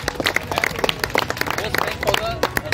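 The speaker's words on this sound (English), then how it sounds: "Give a round loud of applause only for the parents." An audience at a kit distribution ceremony for Kuwait's women's cricket team gives scattered, uneven claps for the players' parents while a voice keeps talking over them.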